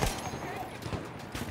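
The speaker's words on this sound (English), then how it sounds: "Oh, I'm getting shot to shit out here." Gunfire crackles through a Battlefield 1 battle in the Storm of Steel campaign, dense overlapping shots and rumble packed across a short stretch, with talk mixed underneath.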